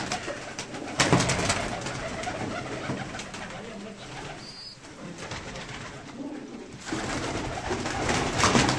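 Pigeons cooing softly amid a noisy, continuous outdoor bustle, the low murmuring calls blending with background clatter.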